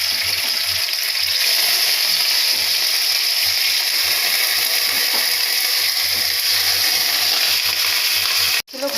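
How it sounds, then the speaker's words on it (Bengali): Hilsa fish pieces frying in hot oil, a steady close sizzle filling the whole stretch with a low hum beneath, cutting off abruptly just before the end. "এর মধ্যে আমি মাছগুলো ছেড়ে দেব।"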